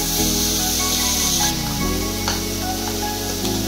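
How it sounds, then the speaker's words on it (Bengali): Chicken frying together with vegetables in a pan gives a steady, loud, close sizzle and hiss that runs unbroken, with faint stirring scrapes. "চিকেনটাও ভালো করে ভেজে নিচ্ছি সবজিগুলোর সঙ্গে"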